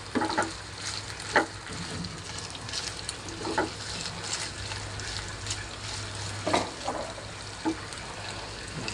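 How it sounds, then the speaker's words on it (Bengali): Loitta dried fish sizzles steadily in a frying pan, with occasional sharper stirring scrapes and clatters punctuating the continuous crackle at close range. "শুটকি প্রায় ভাজা ভাজা হয়ে এসেছে"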